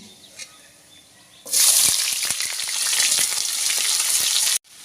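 Chopped onion drops into hot oil already seasoned with whole cumin and whole garam masala, bursting into a loud, steady sizzle after a quieter stretch, with occasional stirring clicks and no talking, then cutting off abruptly.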